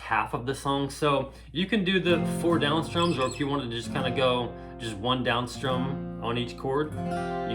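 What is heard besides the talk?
None of the usual background noises is heard.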